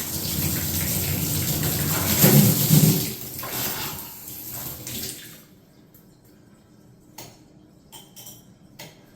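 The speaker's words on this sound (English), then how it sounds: "Let the water run for a second and see if we got hot water." Water runs from a faucet after a cartridge replacement, a steady hiss and splash for about five seconds that then stops, leaving faint ticks and handling noises.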